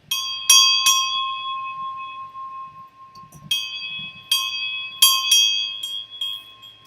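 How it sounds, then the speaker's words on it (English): During a 2016 Topps Tier One baseball card case break, a small bell is struck repeatedly, each clear ringing strike fading out, and the strikes come in quick clusters with no talk over them. "I'll give you a little bell action on that."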